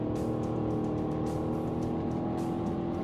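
A Mercedes CLS 63 AMG (C218) runs flat out on a top speed run, its engine droning loud and steady with a constant roar and wind noise throughout.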